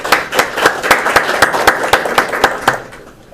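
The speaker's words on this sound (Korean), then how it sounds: "우리 수고한 우리 찬양대 여러분들에게 큰 박수로 격려해 주시기 바랍니다" A church congregation at a hospital New Year service claps in a slow, even unison rhythm for the choir, loud and close, with the beats fading out near the end.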